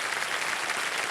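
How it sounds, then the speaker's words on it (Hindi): Studio audience applause for game show contestants on KBC, a brief dense burst of steady clapping at moderate loudness and no talk. "तालियां बजती रहें इनके लिए देने सब।"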